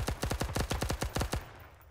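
Machine gun fire in Arma 3, a rapid string of about fifteen loud, close shots in fast irregular bursts lasting over a second, then cut off with a fading tail.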